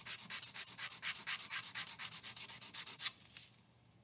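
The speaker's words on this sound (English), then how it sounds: "See, sandpaper will remove a small amount of material at a time." Wood sanded with sandpaper while building a Delta Dart model plane: a quick, even run of close back-and-forth rasping strokes that stops abruptly near the end, with no talking.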